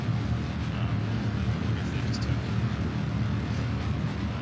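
Steady low engine roar from a rocket in Kerbal Space Program, an SLS model in flight, a continuous dense rumble that holds evenly throughout with no breaks.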